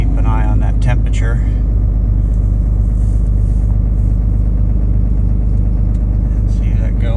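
A diesel engine idles after a cold start in Alaska with a steady, low, close rumble. A voice speaks over it near the start and again at the end.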